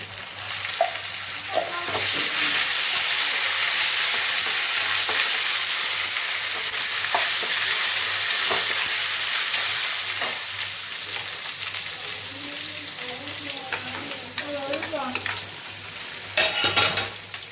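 Ginger garlic paste sizzles steadily in a clay pot for pepper chicken, with a constant frying hiss and occasional scrapes and taps of a stirring spoon close by.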